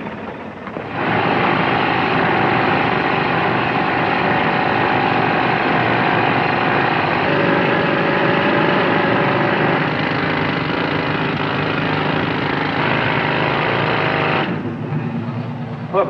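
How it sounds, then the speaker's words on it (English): A rock drill roars and rattles loudly and steadily for about fourteen seconds inside a tunnel, then stops, leaving quieter background noise. "we can start drilling inside the tunnel this afternoon"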